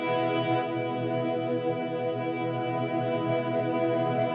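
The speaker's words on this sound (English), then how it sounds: "And the tone reacts on the freeze sound as well." Cornerstone Nucleo guitar pedal in freeze mode, a steady sustained shimmering drone with chorus-like wobble and no attack, held evenly throughout.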